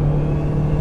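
Engine of a 500 hp turbo 2014 Honda Civic, a loud steady low rumble and whir inside the car, brief and unbroken.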